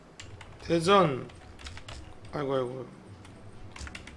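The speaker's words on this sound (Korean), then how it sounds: "타이핑 합니다" Fingers type on a computer keyboard during practice for a Hangul word-processing exam. Light, rapid clicking runs steadily under a voice that talks over it.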